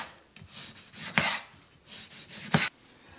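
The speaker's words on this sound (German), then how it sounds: "Und auch eine Tomate brauchen wir in schönen Scheiben, also runterschneiden." A knife cuts a tomato into slices on a board, giving a few crisp, separate strokes spaced about a second apart, close and clear with no talking.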